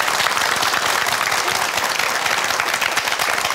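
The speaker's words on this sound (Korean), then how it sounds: "큰 박수 부탁드립니다" A television studio audience breaks into loud, sustained applause for a family, a thick continuous roar of many hands clapping close and full without any voices over it.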